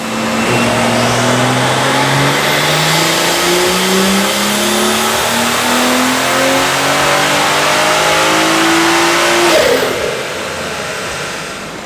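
A turbocharged BMW F30 340 car engine running E50 ethanol blend on a dyno revs up hard in one long sustained pull, its pitch climbing steadily for about ten seconds before backing off, loud and close.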